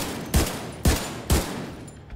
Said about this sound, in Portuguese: Tira a torreta nele.